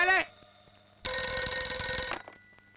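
A telephone bell rings once in a single sustained burst lasting about a second, close and fairly clear, with a short voice sound just before it against a quiet indoor background.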